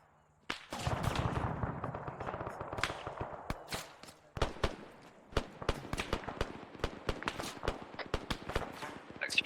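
Gunfire in ARMA 3, a dense mix of sharp single shots and rapid bursts, some close and cracking, others more distant, continuing throughout alongside radio chatter and talking.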